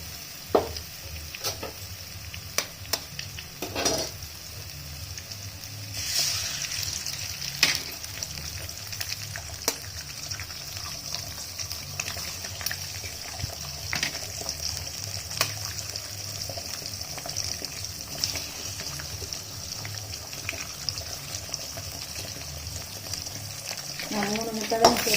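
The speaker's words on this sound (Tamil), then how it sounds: "நம்ம முட்டையை எடுத்து ஊற்றிக்கலாங்க." Eggs frying in oil with onion, green chilli and garlic, a steady soft sizzle with occasional stirring clicks and scrapes, faint and close, lasting throughout.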